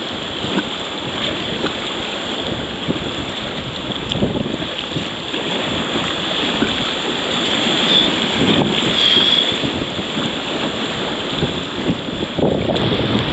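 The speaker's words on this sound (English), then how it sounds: "The wind." Wind on the water while kayaking in Glenwood Springs, Colorado: strong, steady roaring buffets across the microphone with a faint hum and splashing underneath, sustained throughout with no talking.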